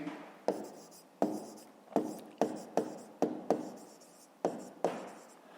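A pen writes by hand on paper during a fifth-grade maths exercise, making about a dozen short, close scratchy strokes in an uneven rhythm, each a quick rising scrape fading out.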